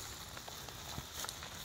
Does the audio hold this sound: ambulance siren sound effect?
no